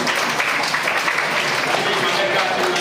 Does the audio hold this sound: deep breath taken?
no